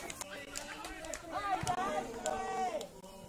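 Football crowd at a Romanian Liga 3 match between CSM Bucovina Radauti and ACS Husana Husi, voices rising together in a loud stadium chant over steady background murmur, with a few sharp thuds and shouts.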